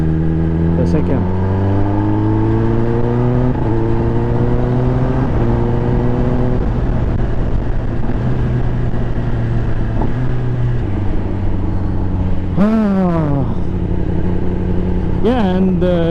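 Kawasaki ZX10R superbike at a drag meet, its engine stepping down through gears with falling revs and a couple of sharp blips near the end, loud and close, with faint voices in the background.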